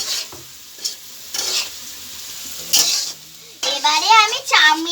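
Vegetables with homemade spice mix fry in a pan for vegetarian chowmein while being stirred vigorously, making loud, close scraping and sizzling bursts with squeaky utensil strokes toward the end.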